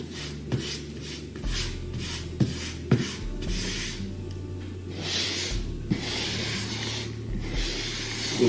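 A grout float packs grout into the joints of hexagon vinyl floor tiles, making soft repeated scraping and rasping strokes with occasional taps, quiet and close with no talking.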